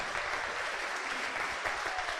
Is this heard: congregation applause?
yes